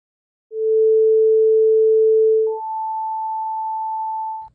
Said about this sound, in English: this tone is also a pure tone, but since it vibrates faster, it sounds higher, aka the pitch goes up